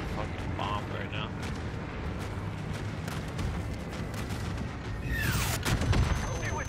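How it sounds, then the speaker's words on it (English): Luftwaffe bombing explosions during a Call of Duty Warzone Vanguard live event, a steady roar of distant blasts and gunfire building louder near the end, with a rising whistle and a voice talking over it. "The Luftwaffe. Luftwaffe. Getting fucking bombed right now."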